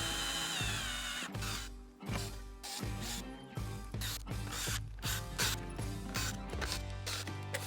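On the primary cover of a Milwaukee-Eight Harley-Davidson Road Glide, a bolt is driven in with short bursts of ratcheting and tool whirring, loud and close.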